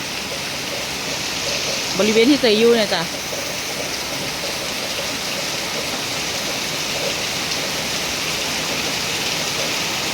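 Heavy rain pours down in a steady, dense hiss that fills the whole stretch at an even level, with someone speaking briefly over it.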